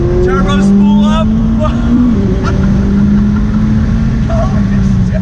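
A 2019 McLaren 600LT's turbocharged engine runs loud and close, a whistling turbo tone climbing steadily before dropping off sharply, with a voice speaking over it.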